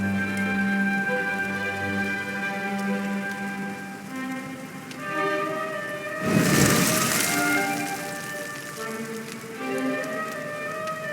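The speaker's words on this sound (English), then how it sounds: "Looks like the rain's dying down." Rain in the video game Dragon Quest XI patters steadily under sustained tonal music, with a brief swelling burst of heavier rain or distant thunder partway through.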